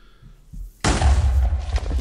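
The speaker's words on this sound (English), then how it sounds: "Like I said, it does make a small explosion." A small explosion from a gasoline and aluminum explosive in the Minecraft Create TFMG mod: one sudden loud blast followed by a sustained, heavy rumbling roar that stays dense to the end.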